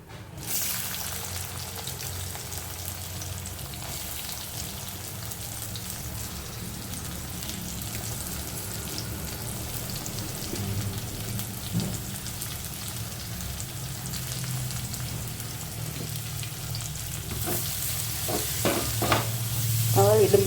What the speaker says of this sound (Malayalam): ഈ ഫ്രൈ ചെയ്ത എണ്ണയിൽ തന്നെ നമുക്ക് അടുത്ത് സവാള